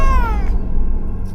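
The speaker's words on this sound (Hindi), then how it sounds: "बिल्ली।" A cat gives one loud, close, drawn-out meow with a falling pitch, followed by quiet room ambience.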